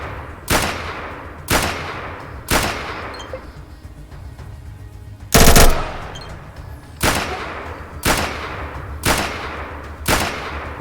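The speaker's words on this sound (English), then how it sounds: "you can send 5 shots down range" Sharp, loud gunshots from pistols and submachine guns in the video game ATOM RPG, a series of evenly spaced single shots with one brief burst in the middle, each cracking then decaying.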